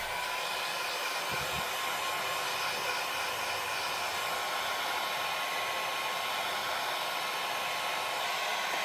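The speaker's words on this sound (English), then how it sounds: "Let's heat it up." A handheld heat tool blows air steadily and loudly to dry ink on a card, a continuous even whoosh with no voices.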